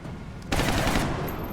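A weapon fires in the XCOM Enemy Within Long War game, a sudden loud burst that cuts in and rolls into a dense rattling crackle, sustained and unaccompanied by talk.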